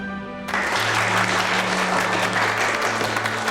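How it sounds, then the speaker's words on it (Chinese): A burst of dense, loud applause starts abruptly after a brief sustained tone and carries on steadily, many hands clapping together in a large room. "先别鼓掌"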